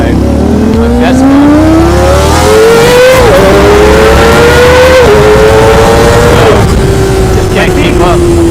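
A Ninja street motorcycle accelerating through Tokyo streets, its engine note rising steadily through the gears with a brief dip between shifts, loud and close, with road and wind noise underneath.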